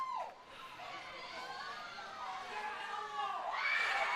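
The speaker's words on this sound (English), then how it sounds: "The crowd is extremely loud at the moment." A loud, excited crowd at a girls' varsity high school soccer game, with shouts and rising and falling cheers that swell toward the end, heard from a distance.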